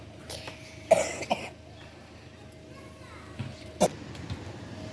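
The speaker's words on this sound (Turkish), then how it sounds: "bazen aralarda kusura bakmayın öksürük tutuyor" A few sharp coughs ring out nearby, two close together and another a few seconds later, over quiet room noise.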